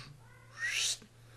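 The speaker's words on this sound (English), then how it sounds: "as my cat is meowing" A house cat gives a single short, rising meow lasting under half a second, fairly close and clear over a steady low electrical hum.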